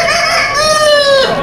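A rooster from a poultry market crows once, loud and close, a single drawn-out call alone with no talking.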